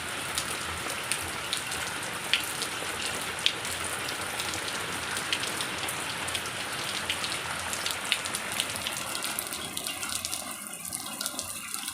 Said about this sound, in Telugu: ఇలా ఉంటుంది వర్షం అయితే.